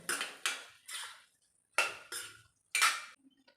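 A spoon mixes fried okra into masala in a pan, giving six separate scraping, clattering strokes of utensil against metal, close and fairly loud with short pauses between them.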